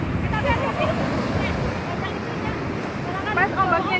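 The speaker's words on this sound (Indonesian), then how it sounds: "Pas ombaknya datang bagus." Ocean waves roll in at Suwuk beach, a steady wash of surf mixed with wind noise at close range, while people chatter faintly in the background.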